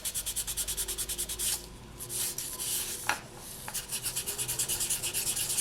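Polymer clay being sanded by hand with 800 grit sandpaper, rapid rhythmic back-and-forth scratchy rubbing strokes, close and fairly loud, with a short pause in the middle.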